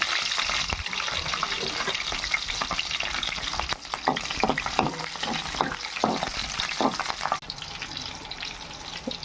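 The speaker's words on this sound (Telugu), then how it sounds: "ఇదిగో నూనె కాగింది, వేస్తుంది." Food frying in hot oil for a lemon rice preparation, a loud, dense crackling sizzle close by, with bursts of spattering and stirring scrapes through the middle and no voices.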